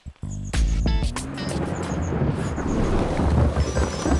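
Thunder cracks and rolls over steady heavy rain in a forest, with a sharp loud clap near the start followed by a continuous dense downpour and low rumbling throughout.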